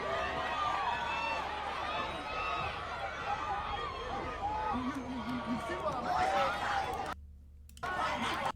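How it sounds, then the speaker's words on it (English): Crowd noise at a Texas high school district championship sprint race, a broad roar of spectators cheering continuously under commentary, with scattered shouts rising near the end before a brief cut. "And the crowd goes crazy because he's moving so fast"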